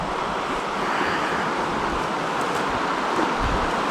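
A river in flood after heavy rain rushes past in a loud, steady roar of churning water close by, with some wind buffeting and no voices.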